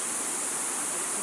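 Bright Angel Creek, a cold stream by a campsite in the Grand Canyon, rushes in a steady, broadband hiss of flowing water, close and continuous with no voices.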